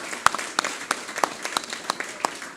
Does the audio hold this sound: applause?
yes